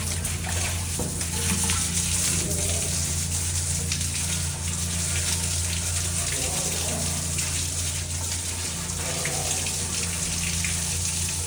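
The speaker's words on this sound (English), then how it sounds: "We'll take it back up there to where the hose bib is and wash it off." A hose sprays water steadily over a pump strainer from a mechanical room, a constant close hiss and splash running the whole time with faint voices underneath.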